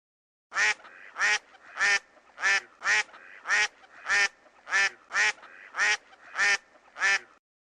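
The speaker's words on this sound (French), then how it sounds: "C'était le cri du canard." A duck quacks about a dozen times in a steady, evenly spaced rhythm, clear and close, with no voices.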